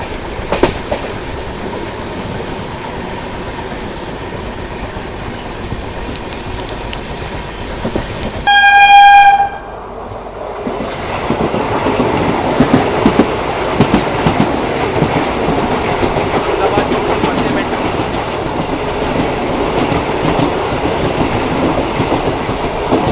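The Saurashtra Mail, an Indian Railways passenger train, rumbles along the rails toward Viramgam Junction. One long, loud horn blast sounds partway through, then the wheels clatter on under a steady rolling roar.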